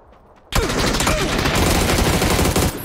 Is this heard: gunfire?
yes